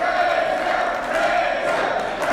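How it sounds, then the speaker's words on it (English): A wrestling crowd roars and cheers steadily, a dense, loud wash of voices filling the arena throughout. "Listen to this crowd."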